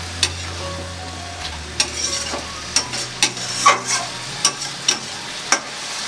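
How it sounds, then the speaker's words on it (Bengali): Amudi fish frying and sizzling in a pan for Bengali amudi macher jhal, a steady close sizzle with several sharp clinks and stirring scrapes scattered throughout, a low hum dropping away midway. "এতে আমি মাছগুলো ছেড়ে দিচ্ছি, দিয়ে আমি 2 মিনিট ভালো করে ফুটিয়ে নেব।"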